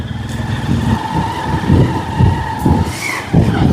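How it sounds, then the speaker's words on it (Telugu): A motorbike races past on a hilly village road near a mountain. Its engine drones loudly and close, with surging rises and falls in the revs. "మా వాడు బైక్ దూసుకొని పోతున్నాడు"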